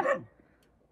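A dog gives a single sharp, loud bark close by, outdoors in the Himachal hills, and the sound fades quickly into quiet.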